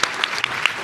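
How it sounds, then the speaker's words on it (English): An audience claps for award recipients at a Rare Disease Week event on Capitol Hill. The applause is dense and steady, with a few sharper individual claps standing out. "we just applauded each of them individually"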